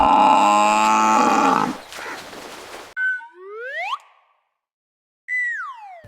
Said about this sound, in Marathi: बफेलो बफेलो म्हणजे म्हैस